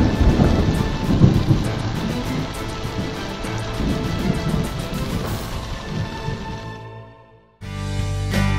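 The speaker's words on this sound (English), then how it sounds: "the rain's coming in so strong, I can't see the camera in front of me" Heavy storm rain during Hurricane Irene at a waterfront building site, a loud dense roar with thunderous rumbles that fades out, then a brief cut to another steady rush.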